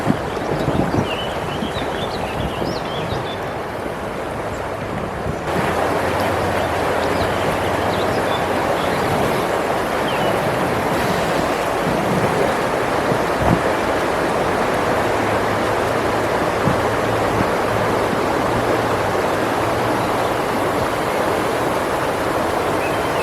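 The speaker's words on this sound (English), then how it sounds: "coming up on some rapids" Steady broadband rushing of river rapids on the Genesee River, heard continuously and close from an inflatable dinghy, with no voices.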